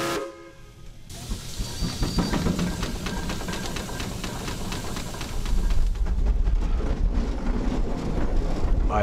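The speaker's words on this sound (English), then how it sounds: "I'd never driven a steam-powered anything, let alone this big monster of a tractor." A big steam-powered farm tractor engine runs nearby with a rhythmic chuffing beat and a hissing, rumbling roar that grows heavier toward the end, loud and close with wind buffeting the microphone.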